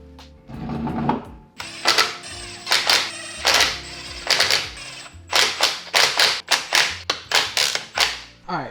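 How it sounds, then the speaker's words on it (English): Wheel lug nuts are torqued down on a Subaru BRZ. Close, sharp clicking bursts come in a rapid rhythmic series, each a quick run of ratchet-like taps, with no talking. "Now, time to throw on our wheel, throw on our lug, and torque it down."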